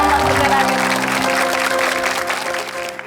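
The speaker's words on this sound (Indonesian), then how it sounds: "Boleh tepuk tangan untuk Master Lambat." A studio audience claps for a comedy talk-show guest in a loud, sustained round of applause, with voices and music mixed in.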